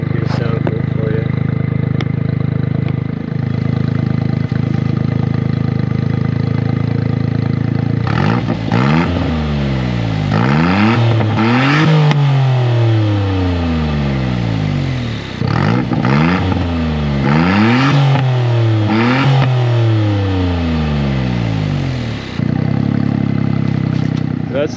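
A Suzuki Cappuccino's small engine revs repeatedly through its factory exhaust, rising and falling in pitch in several bursts, loud and close, with idle between.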